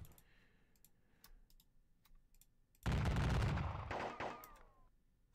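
An infantry formation fires a musket volley in the Vienna 1683 musket-and-pike war game: a few sharp clicks, then a sudden loud crackling roar of massed shots that slowly tails off.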